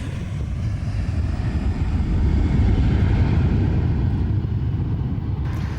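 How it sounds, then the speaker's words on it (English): A new Airbus airliner, such as the A318, flying in the Farnborough air show display in 2002, a loud, steady jet roar sustained throughout without speech. "Airbus had 2 brand new aircraft in the flying display, including the A318."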